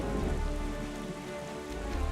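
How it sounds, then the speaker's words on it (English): Steady rain from the eternal storm in The Legend of Zelda: The Wind Waker, a dense continuous patter with no voices or other sounds over it. "It's gonna be raining forever, unless you find that pearl,"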